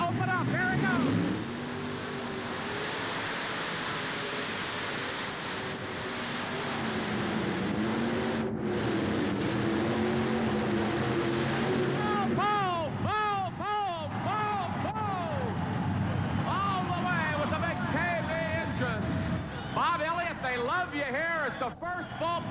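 Supercharged alcohol-burning pulling tractor of roughly 5,500 horsepower roaring down the track, a continuous heavy engine drone rising and wavering in pitch, with an announcer talking over it throughout.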